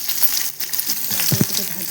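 Onions sizzle steadily in hot mustard oil with cumin, cinnamon, cardamom and bay leaf for a mushroom masala, with brief scraping stirs partway through.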